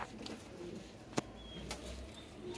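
Soft pigeon coos at a bird seller's loft, faint and distant under steady outdoor noise, with a couple of sharp clicks or taps breaking through.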